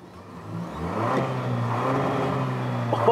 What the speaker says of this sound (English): Can you give it some revs so we can hear?